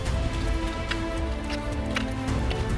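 Heavy, pouring rain on the drive up into the highlands gives a dense, steady hiss, fairly quiet and continuous, with a few brighter splashes on top.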